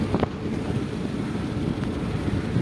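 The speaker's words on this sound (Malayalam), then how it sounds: "നമ്മൾ പൊക്കോണ്ടിരിക്കുകയാണ്, ഭയങ്കര കാറ്റ്" Strong wind roars and buffets the microphone while travelling by car, a loud, steady broadband rush that lasts throughout with no talking.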